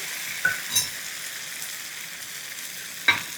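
Ghavan rice batter sizzling on a hot tawa, a steady close frying hiss with a few brief clicks and ticks, no voices.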